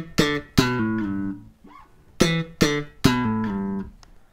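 Bass guitar plays a short melodic phrase twice, with plucked notes joined by hammer-ons, a pull-off to A and a slide to G, each attack clear and ringing alone.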